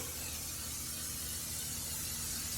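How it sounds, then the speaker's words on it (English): A continuous aerosol spray hisses steadily and close, without pause from start to finish. "We're just going to keep on spraying."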